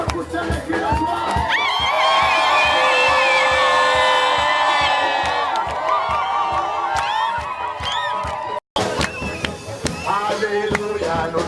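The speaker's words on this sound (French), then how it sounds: "que tu peux pousser les cris de joie?" A large church crusade congregation in Ebolowa shouts and cheers with joy, a loud, dense wall of voices sustained for most of the stretch, broken by a brief drop before the crowd noise swells again.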